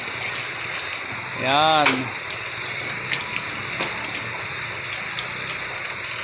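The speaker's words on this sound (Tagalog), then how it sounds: "Kahit ganito na kalakas ang ulan." Steady heavy rain hisses throughout, with a brief voice speaking over it near the start.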